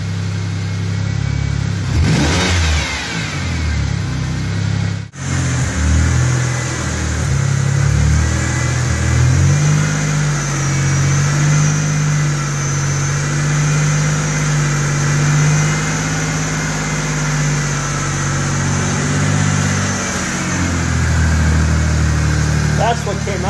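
A 2004 Mazda6 with a transplanted 2006 Ford Fusion engine runs close by, idling with a steady low hum and a brief rev near the start, while a person talks over it.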